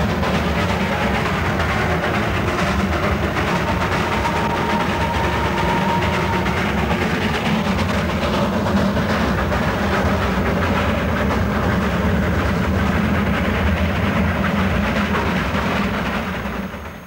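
A B-class steam engine hauls the Himalayan toy train with a continuous, loud rumble and rolling clatter of wheels on track, steady for the whole stretch and fading slightly at the end, with no voices.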